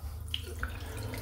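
Water runs from a bathroom tap while a dense silvertip shaving brush is rinsed of leftover soap, a steady close splashing stream alone with a couple of faint drips.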